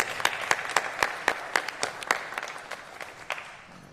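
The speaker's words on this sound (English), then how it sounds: "I just want to give you a round of applause for everything that you've done and continue to do." Sparse clapping from a small audience honoring fire and rescue staff at a county gathering, separate distinct claps in a loose rhythm, tapering off toward the end.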